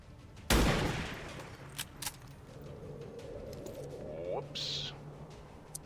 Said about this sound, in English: Let's take the 86 here with the sniper rifle.